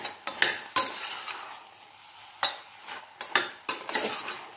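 A spoon stirs rice and vegetables cooking in water in a pot on a raised flame, making a series of sharp scraping clatters at irregular intervals over a soft background bubble.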